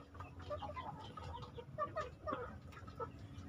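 Hens kept as breeding stock cluck repeatedly at moderate distance, several birds overlapping in an irregular, low-level chorus.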